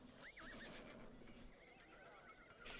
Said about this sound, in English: you keep hearing horses because I have fucking town audio on